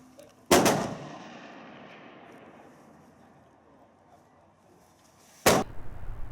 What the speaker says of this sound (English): after firing a few shots just to check that it was vaguely sighted